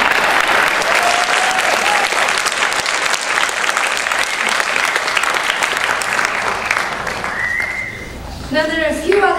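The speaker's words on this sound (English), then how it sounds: "can we please give him a big round of applause?" Loud, sustained audience applause and crowd noise for a gentleman at a music event, tapering off near the end as the clapping thins out and a voice starts speaking.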